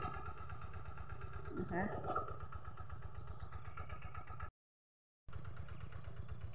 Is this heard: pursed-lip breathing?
no